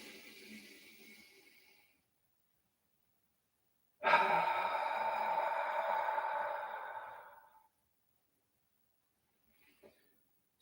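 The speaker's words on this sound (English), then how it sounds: "So inhale, exhale," Deep, exaggerated breathing during a shoulder exercise: a soft exhale fades out, then after a pause comes one long, loud, rushing breath that lasts several seconds before silence returns.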